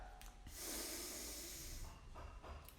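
A seated woman takes a deep, slow inhale during a breathing exercise, a close airy hiss that swells and holds for a couple of seconds, followed by softer breath noises.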